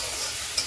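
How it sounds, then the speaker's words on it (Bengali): Chopped onion, ginger, garlic and green chilli fry in mustard oil in an iron kadai, giving a brief, steady, close sizzle with no talking. "কাঁচা লঙ্কা কুচি কুচি করে রেখে এখানে ভাজা করছি।"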